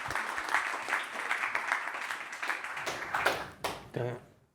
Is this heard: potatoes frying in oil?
no